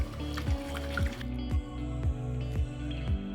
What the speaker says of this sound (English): keep cooking and keep whisking it until it starts to thicken up a little bit